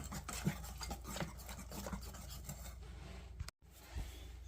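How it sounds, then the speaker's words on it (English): A utensil scrapes and rubs around the sides of a mixing bowl of crumpet batter in repeated soft, close strokes, then stops briefly before a final scrape. "And then scrape the sides of the bowl as you go."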